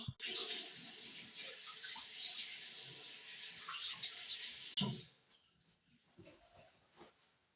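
Tap water runs steadily and fairly close while someone rinses their face at a sink, a broad continuous rush that cuts off abruptly partway through, leaving a quieter room with faint scattered sounds.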